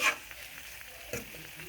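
Creamy seafood alfredo pasta sauce being stirred in a pan, a soft continuous simmering sizzle with a couple of brief spoon clinks and scrapes, quiet and close with no talking.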